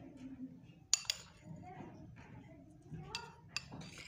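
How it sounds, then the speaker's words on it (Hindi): A spoon stirs custard powder into milk, with a few sharp clinks against the bowl over soft swirling and faint background voices. "सबसे पहले दूध में हम कस्टर्ड पाउडर को मिक्स करेंगे"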